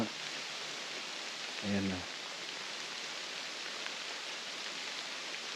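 Light rain falls steadily and softly around a deer hunter's outdoor spot, a faint, even hiss throughout, with one short spoken word near the start.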